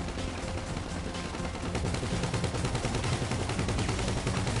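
Sustained gunfire in a GTA video game, a dense continuous barrage of shots with no pauses, steady and loud throughout, no talk.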